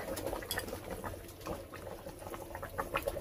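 Rohu fish curry with gathi kochu bubbling in a pan in a village kitchen, a continuous close burble of boiling liquid with small pops, moderate loudness, no talking.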